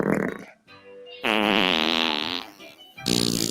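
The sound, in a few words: AI-generated fart sound joke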